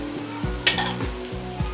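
Mutton liver with chilli, garam masala, turmeric and salt fries in a karahi, a loud close sizzle broken by regular rhythmic strokes of a stirring spoon, no voices.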